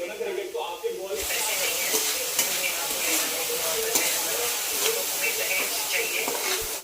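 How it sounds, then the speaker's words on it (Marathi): Finely chopped spinach frying in oil with garlic in a home kitchen pan, giving a loud, steady sizzle and hiss with occasional stirring scrapes, close and continuous throughout. "बारीक चिरलेला पालक जो आहे ते मी भाजून घेत आहे"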